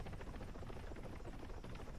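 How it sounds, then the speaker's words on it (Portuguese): An armed helicopter in the video game ArmA 3 drones in a steady, fairly faint rotor rumble that holds without break. "Helicóptero armado."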